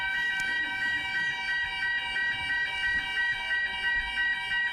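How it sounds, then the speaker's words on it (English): A fire alarm sounding in a hall during a convention panel, a loud, steady electronic tone with a fast pulsing beat that runs on without a break, no voices over it. "that sets off the fire alarm"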